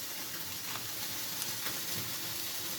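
A beef burger patty sizzles in a pan alongside caramelised onions, giving a continuous close hiss of frying with small crackles scattered through it and no talking.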